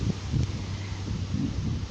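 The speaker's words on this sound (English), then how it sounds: "It's nice and breezeful, windy day today." Steady wind buffeting outdoors, a low rumbling gusty roar that swells and eases in soft pulses throughout.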